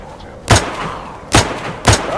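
Gunfire in the video game DayZ: three sharp, loud shots spaced irregularly over about two seconds, each a short punchy crack with a low thump, over a quiet background.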